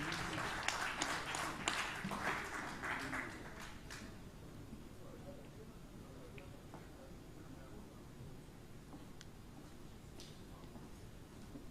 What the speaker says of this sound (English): Please, a warm round of applause for Engineer Mrs. Esther Oyerunke Oluniyi as she comes forward.